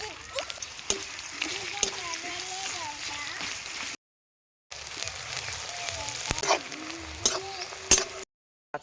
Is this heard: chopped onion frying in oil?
yes